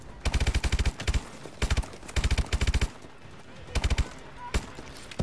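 Bursts of automatic gunfire in Call of Duty: Advanced Warfare, rapid rhythmic volleys separated by short pauses, loud and close with no talk over them.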